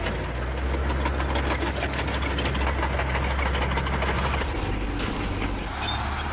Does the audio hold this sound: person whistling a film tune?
no